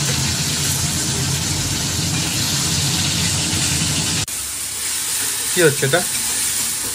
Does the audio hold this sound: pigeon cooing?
no